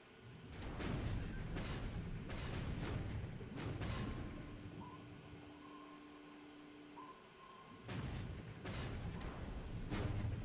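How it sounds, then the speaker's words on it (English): Depth charges detonate in a WWII naval video game set near the Philippine Islands, a series of deep muffled booms with rumbling tails, spaced irregularly over a low steady hum, moderately distant. "for not being able to establish contact, they sure are dropping a lot of depth charges"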